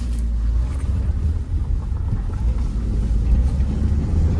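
Nissan Primera P12 driving forward in drive gear, a steady loud low engine and road rumble running throughout with no pauses.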